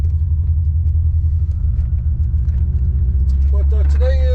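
A 1989 C4 Corvette engine cruising on an autumn road: a loud, steady low rumble that drones throughout, with a rising whine creeping in near the end.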